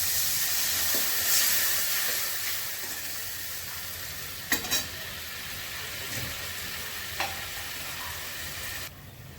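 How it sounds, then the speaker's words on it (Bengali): Water goes into a sizzling fried spice paste while tilapia curry cooks, raising a hissing steam burst. Brief clatters sound over a steady, moderate sizzle, and no one speaks. "মশলা কষানো হয়ে গেছে, জল দিয়ে দিচ্ছি।"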